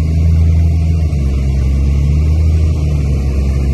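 A turbocharged car at a night roll race, its engine droning loud and steady at close range, with a brief dip in the tone midway that could be a downshift.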